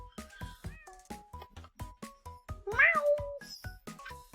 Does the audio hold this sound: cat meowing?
yes